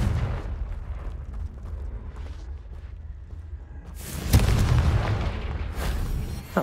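A Confringo blasting spell explodes in the Hogwarts Legacy video game, a deep booming blast with rumbling low end that swells midway, set against ongoing game ambience.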